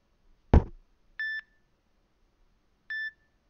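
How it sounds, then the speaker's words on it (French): NO.1 G2 smartwatch sounding one sharp tap, then two identical short electronic notification beeps about 1.7 seconds apart, clear and close in a quiet room. "vous avez trois types de sonneries différentes. Les notifications aussi"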